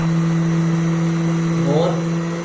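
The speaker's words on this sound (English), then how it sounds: "the previous motor that you saw was this one 500 watts motor from an old sieving machine" A 500 watt motor salvaged from an old sieving machine runs at high speed, giving a loud, steady electric hum with a strong tonal whine and a brief pitch shift near the end.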